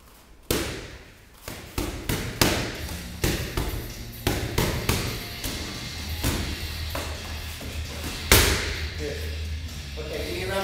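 Punches landing on pads during a personal boxing training session: a run of sharp, loud smacks in quick combinations with short gaps, plus some talking between strikes.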